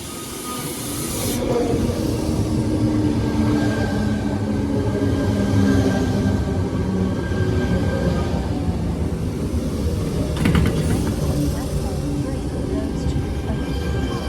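A Sydney suburban train arrives at the Harris Park station platform in rain, a loud sustained rumble and hiss running steadily throughout with a few brief squeals and clatters partway through.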